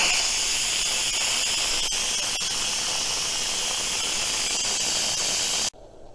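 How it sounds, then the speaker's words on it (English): An Instant Pot's pressure release valve vents steam after cooking baked potatoes, a loud continuous hiss with a faint squeal that runs steadily for several seconds, then cuts off abruptly to near quiet. "So I'm gonna release the pressure."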